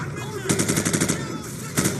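Rapid automatic gunfire from the video game Call of Duty 4, two loud bursts of quick repeated shots, a longer volley followed by a short one after a brief pause.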